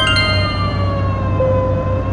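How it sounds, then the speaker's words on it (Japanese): A police car siren in the racing game Thrill Drive 2 wails steadily and loudly, its tones gliding slowly downward over a low engine rumble, with no speech. "パトカーが接近しています"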